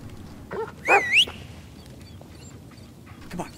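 A dog in the Blair Witch video game gives a brief bark and a rising whine or yelp, a short close burst near the start, followed by quiet ambience.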